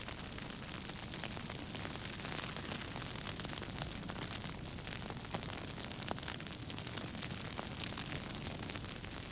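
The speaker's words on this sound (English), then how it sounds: "fire sweeps through their hiding places" A grass fire sweeps through open country, giving a dense, continuous crackling roar with scattered sharp pops that holds at steady strength throughout, with no voices.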